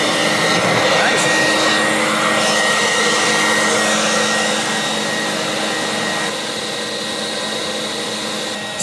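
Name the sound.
sump cleaner vacuum sucking coolant out of a CNC machine sump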